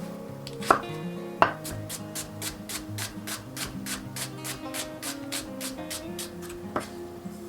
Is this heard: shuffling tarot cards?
no